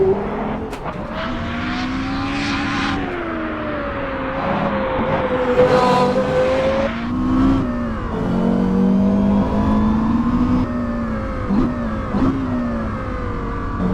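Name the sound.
Porsche Carrera GT engine revving on a race track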